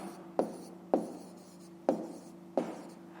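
Pen or pencil writing by hand on paper while working a school maths problem, four short scratchy strokes spaced about half a second to a second apart over a low steady hum, close and quiet, with no talking.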